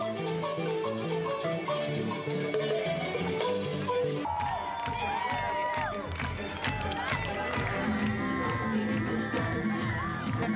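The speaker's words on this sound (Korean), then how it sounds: "잼버리에서만 볼 수 있는 특별한 이벤트이기에 더 크게 열광하고 환호하는데요" A large crowd cheers and shouts with music at a stage show at the 2023 Saemangeum World Scout Jamboree, loud continuous excitement with whoops and children's voices over a steady musical backing.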